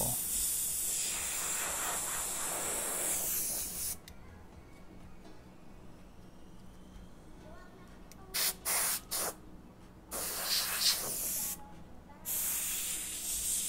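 An airbrush or spray gun hisses paint onto the tire of a custom-painted Jeep dash, in several bursts: a long opening spray, a pause, then short sharp hisses and a few longer ones near and loud.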